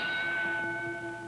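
A boxing ring bell opens round 8 of the 1951 Rocky Marciano versus Joe Louis heavyweight bout, one clear ringing tone that hangs and fades, with no talk over it.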